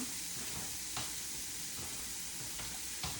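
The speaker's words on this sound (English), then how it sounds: "It doesn't take long to cook zucchini" Zucchini cooking in a pan gives a steady, close sizzle with a few soft stirring scrapes, and no voices.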